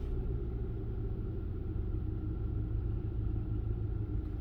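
A Kia Optima car engine idling with its headlights off, giving a quiet, steady low rumble with an even hum throughout and no speech.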